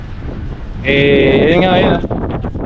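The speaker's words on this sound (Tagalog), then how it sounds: "Ang lakas ng hangin dito." Strong wind on a coast roars and buffets across the microphone while a person speaks briefly, and a bright tonal sound rises over it for about a second.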